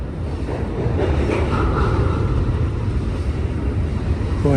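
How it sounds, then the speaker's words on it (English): A downhill freight train's slack runs in as the couplers bunch together, producing a continuous loud, broadband rumble and clatter of rolling cars with a steady roar, close by and without talk. "Boy, listen to that slack catching up there."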